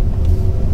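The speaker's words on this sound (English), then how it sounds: "Noisy road sweeper here" Noisy road sweeper passing on a street, a loud low rumbling engine drone that stays steady and close through the short stretch.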